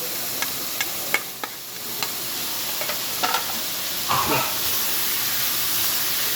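Peas and chicken for a samosa filling sizzle in a pan while a spoon stirs them, with sharp taps at the start and a louder scraping stir later, all close by.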